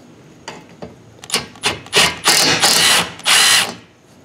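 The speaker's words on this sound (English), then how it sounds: "Now we're just gonna drill holes here." A power drill bores bolt holes to mount a car's twin turbo setup, starting with a few short taps and then rising through longer, louder grinding bursts that stop and restart, close and clear.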